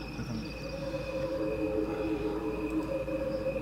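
Crickets chirping in a steady, thin high-pitched trill that holds for several seconds at a soft, even level with no speech over it.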